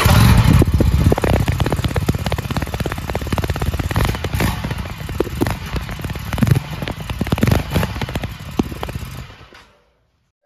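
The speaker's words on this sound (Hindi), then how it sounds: "RS 457 की आपको साउंड कैसी मिलने वाली है, चलिए मैं आपको बताता हूँ।" An Aprilia RS 457 sport motorcycle runs loud and close, its engine and exhaust giving a dense, crackling, rumbling roar that holds for about nine seconds before cutting off abruptly.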